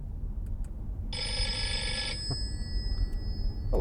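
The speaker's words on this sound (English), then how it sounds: "Telephone. Ringtone selection." An old-style telephone bell ringtone plays from the infotainment ringtone selection of a 2015 Audi RS4 Avant, a bright steady ring lasting about a second over low cabin hum.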